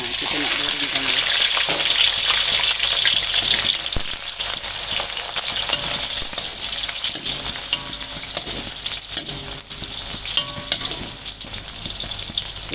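Cut ingredients and onions sizzling in hot oil in a pan while cooking beef dendeng: a steady, loud frying hiss with occasional stirring scrapes, continuing throughout.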